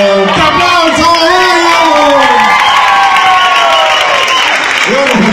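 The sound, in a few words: audience applauding and cheering dancers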